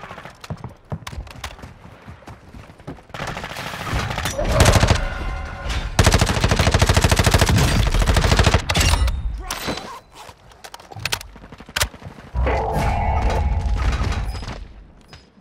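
Automatic gunfire in the Warzone video game: long, loud rapid bursts of rifle fire alternating with single shots and short pauses, with a brief voice heard over the shooting.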